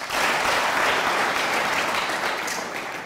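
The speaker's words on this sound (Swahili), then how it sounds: "tumpigie makofi jaji huyo" An audience at a Swahili arts event in a school hall claps steadily in dense, sustained applause for a judge, loud and even throughout before easing slightly at the end.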